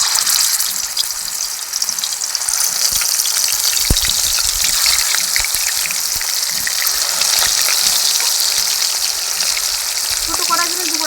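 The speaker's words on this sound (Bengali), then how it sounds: "কড়াইটা গরম হয়ে গেছে, মাছগুলো ভেজে নেব।" Pieces of catla fish fry in hot oil in a wok, loud and close, a dense, steady sizzle with popping and spattering that carries on throughout.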